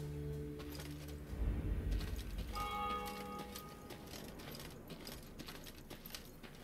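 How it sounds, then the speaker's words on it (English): Temple bells of Mother Melitele ring out in the fantasy game Thronebreaker, a soft sustained metallic tone entering after a low rumble and lingering over a quiet clattering game ambience, heard at some distance. "they heard the bells of a temple to Mother Melitele, situated at some distance"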